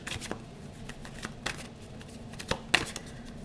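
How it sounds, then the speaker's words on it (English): A tarot card deck shuffled in a handful of quick riffling bursts, soft papery flutters with sharper snaps near the end, close and fairly quiet with no voices. "let's give the deck a quick shuffle"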